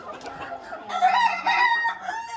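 Frizzled silkie chickens cluck, and one gives a loud, close crow lasting about two seconds, with no talking.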